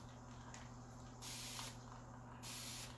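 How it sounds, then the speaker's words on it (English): Two short bursts of a spray bottle hissing, each about a second long, over a steady low hum in a quiet room. "We're gonna spray it."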